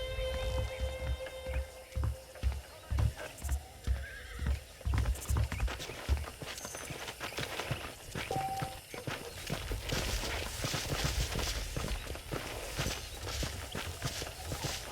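Horses in Red Dead Redemption whinny and hooves clop in a steady walking rhythm, layered with rustling ambience and scattered clatter, fairly close and continuous.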